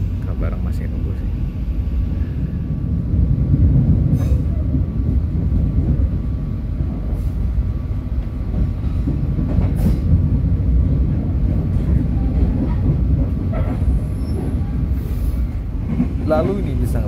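A passenger train on Java runs at speed along the rails, producing a loud, continuous rumble and rattling throughout, with a voice talking over it.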